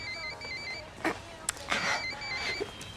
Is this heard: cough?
no